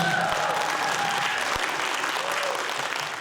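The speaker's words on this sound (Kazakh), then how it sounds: "Шапалақ ұрып, қолдау көрсетіп қойыңыздар." Sustained audience applause fills a children's kindergarten fairy-tale performance of a patriotic song, a dense steady clatter of many hands clapping at fairly close range throughout, with no voices breaking through.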